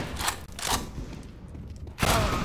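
Gunfire from a video game aimed at a headshot, heard as a few punchy, loud shots spaced apart with a quieter stretch between them and a final heavy burst at the end.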